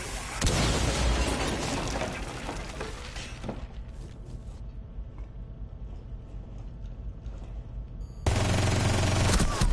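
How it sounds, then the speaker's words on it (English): Gunfire in Rainbow Six Siege, loud rapid bursts of shots and blasts at the start, quieter intermittent firing and rattling through the middle, then another loud burst of heavy fire at the end. "I can hear your fucking gun from here."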